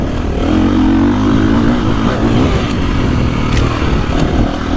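A 2024.5 KTM 450 Factory Edition dirt bike engine drones loud and close in a steady, rough mid-range growl with slight throttle swells, no voices over it.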